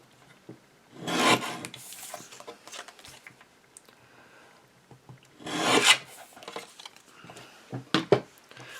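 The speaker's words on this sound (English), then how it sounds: "So I will go ahead and trim this bottom off and cut it to 5 inches." Card paper is trimmed to 5 inches with a paper trimmer, making two longer rasping slides of the blade and a few short sharp clicks and scrapes, close and moderately loud with quiet gaps between.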